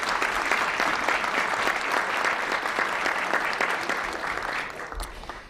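Audience at a press club luncheon applauds steadily, a dense, even patter of many hands filling the room, then tapering off near the end.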